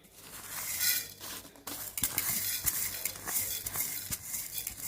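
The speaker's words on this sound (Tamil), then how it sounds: "இதை ஒன்றா வறுத்துக்கலாங்க" Whole spices and curry leaves with salt and turmeric dry-roasting in a pan for a village pepper chicken dish, with a spoon scraping and clinking against the pan over a soft crackle, close and fairly quiet.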